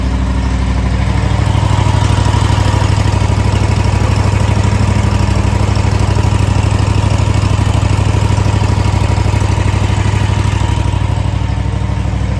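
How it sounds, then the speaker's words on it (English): A Husqvarna V500 riding mower engine runs steadily and loudly for about twelve seconds, with a lumpy, uneven idle throb up close and no voices. "this is the Husky running"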